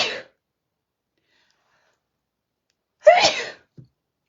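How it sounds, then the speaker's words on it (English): A single sharp sneeze after a brief silence, followed by a small sound, close to the microphone. "I'm going to sneeze."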